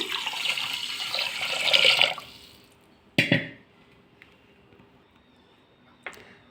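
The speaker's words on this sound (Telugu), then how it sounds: "బియ్యం కడిగిన తర్వాత ఇదే కప్పుతో రెండు కప్పులు నీళ్ళు వేసుకోవాలి" Water is poured from a measuring cup onto washed, soaked rice in a pot: a steady splashing pour lasting about two seconds, then a single sharp splash and a few faint drips in a quiet room.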